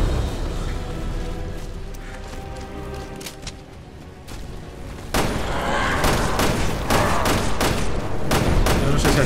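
Gunfire in the Resident Evil Revelations 2 video game, a dense burst of sharp shots and booms that grows louder and heavier in the second half, with steady game noise underneath.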